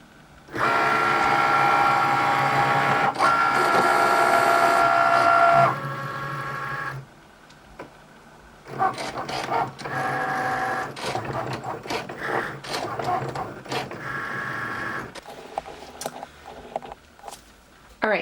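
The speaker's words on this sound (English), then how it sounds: "our Cricut light is blinking, so we can load our mat into our Cricut" A Cricut cutting machine cuts heat transfer vinyl on a mat with close, whirring motor runs: one long steady stretch, a pause, then shorter stop-start bursts of carriage movement.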